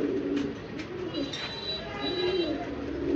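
Red Lahori fancy pigeons coo in soft, rolling, repeated calls close by, set against a low background hum.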